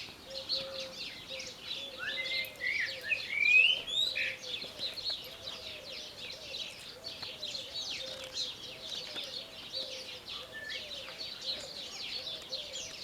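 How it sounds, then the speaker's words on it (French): Small garden birdsong in a quiet setting: scattered chirps and trills from several birds overlapping, with one brighter rising call standing out near the start, soft and fairly distant throughout. "c'est l'heure où les oiseaux chantent, c'est pour ça que je suis allée dans le petit jardin"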